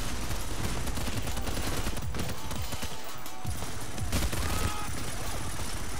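Bursts of rapid gunfire in the heist shooter Payday, dense crackling volleys layered with clatter and impacts, fairly quiet and continuous across the stretch with no talk over it.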